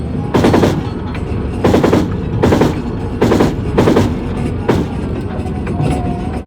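A machine gun on an Oncilla armored vehicle fires in loud, close bursts, about six short volleys of rapid shots separated by brief pauses.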